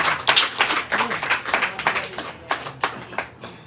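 Small gathering of devotees at a full-moon religious talk clapping for a speaker, individual hand claps clearly distinct and uneven in rhythm, moderately close, thinning out toward the end.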